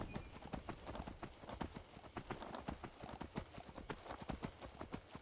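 Horse hooves clip-clop steadily in Skyrim, a fast, regular rhythm of hard thuds that continues loudly throughout over a constant background din.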